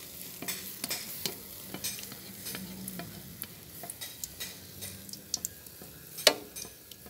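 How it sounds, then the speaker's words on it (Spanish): Egg-battered rellenos fry in very hot oil with a steady crackling sizzle, dotted by irregular ticking pops and occasional sharper spatters, close and fairly quiet. "El aceite está súper caliente. Tiene que estar bien caliente para que rápido dore el huevo."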